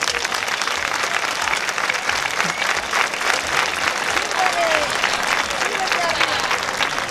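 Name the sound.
audience applause at festival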